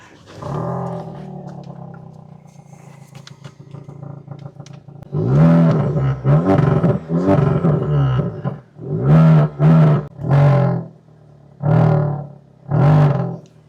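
An MG7 car engine idles with a deep rumble, then revs repeatedly through a valved exhaust in strong throaty bursts, each roar rising and dropping back, close and loud.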